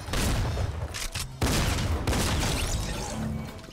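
Rapid automatic gunfire in the video game Fortnite, a dense, loud continuous fusillade of shots filling nearly the whole span with only a brief break, heard up close.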